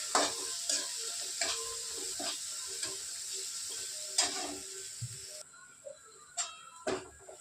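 Chickpea greens sautéed in a pan, a faint low sizzle broken by sharp scraping and tapping strokes of a spatula against the pan at irregular intervals.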